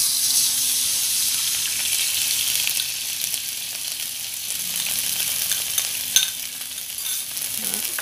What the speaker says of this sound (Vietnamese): Bây giờ hành mình phi nó đã thơm rồi đó các bạn, nó đã vàng rồi ha